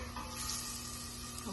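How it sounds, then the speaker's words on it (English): Bacon browning in a pan on the stove, giving off a steady, close sizzle and crackle of frying fat that holds even and unbroken throughout, with no talking over it. "So let that bacon brown."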